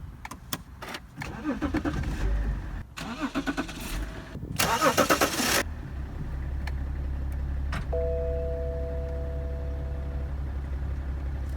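A BMW 325d convertible with a six-cylinder diesel engine cranks with a quick run of starter churns, catches, and settles into a smooth, steady low idle close by, with a soft electronic chime near the end.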